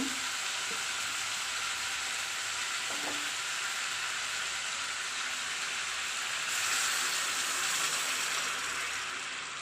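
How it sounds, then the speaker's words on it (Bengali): Hot water poured into spiced potatoes that have been frying in oil sets off a steady hiss and bubbling sizzle, with a brief clink early on and the sound swelling louder toward the end. "এবার আমি গরম জল দিয়ে দেব"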